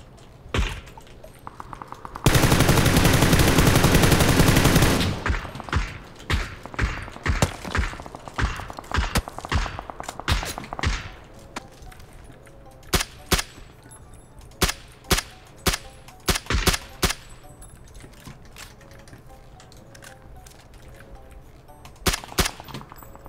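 A multiplayer shooter match erupts with a long burst of automatic gunfire, followed by scattered sharp shots, metallic clangs and thuds at varying distances, loud and irregular with pauses between volleys.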